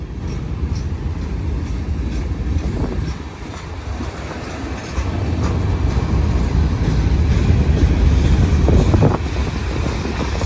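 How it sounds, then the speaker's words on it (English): A mile-long Norfolk Southern freight train of about 100 cars rolls past a three-track crossing near a depot, its loud steady rumble and clickety-clack swelling midway, with wind buffeting the microphone. "It's a Norfolk Southern train."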